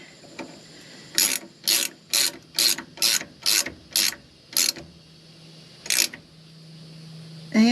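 A ratchet wrench tightening an Edelbrock Pro-Flow 4 fuel system fitting, nine crisp, evenly spaced clicking strokes up close, then a pause and one more stroke, with no talking.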